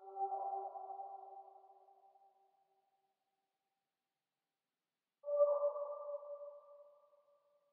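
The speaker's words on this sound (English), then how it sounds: "it's a smooth and ambient vocal." A smooth ambient vocal one-shot sample plays two soft, sustained tones separated by a long silence, each fading out slowly and faintly.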